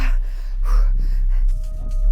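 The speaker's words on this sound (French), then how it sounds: "Le souffle court." A firefighter battling a blaze at the medieval Cité of Carcassonne breathes in short, heavy gasps and snorts, loud and close, over a steady background roar.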